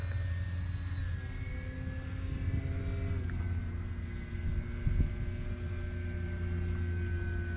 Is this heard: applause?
no